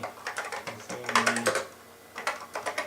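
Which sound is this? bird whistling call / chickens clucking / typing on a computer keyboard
typing on a computer keyboard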